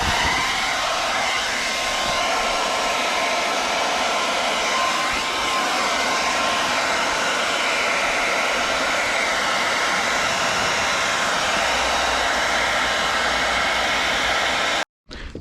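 Heat gun blowing hot air onto a car rear light (EP3) for tinting, a steady loud close whooshing hiss that runs continuously before cutting off abruptly at the end.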